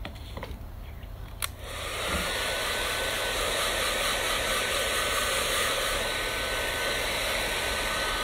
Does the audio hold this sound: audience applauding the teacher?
no